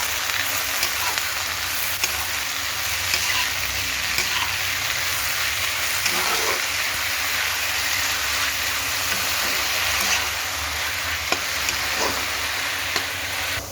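Spinach (palak) sautéing in a pan for palak uppittu: a steady, close, even sizzle runs throughout, with faint clicks of stirring now and then and no voices.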